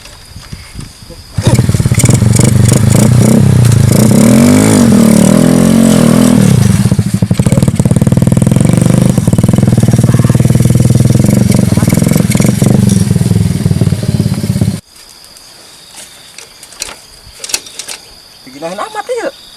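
A motorcycle engine runs loud and close in a rural garden setting, a steady droning roar for most of the clip before cutting off abruptly, followed by quieter scattered rustles and insect-like chirps.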